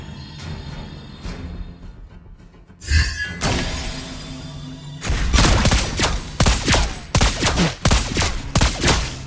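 Lesley's guns in the Mobile Legends: Bang Bang game fire in loud bursts, a single shot then rapid volleys of sharp cracks that cluster and repeat over several seconds with no talk.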